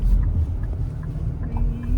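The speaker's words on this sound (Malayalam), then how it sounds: "സൈഡിലോട്ട് കണ്ടോ ബോട്ട്" A boat passing by on the water gives a low, steady engine rumble, with wind buffeting the microphone.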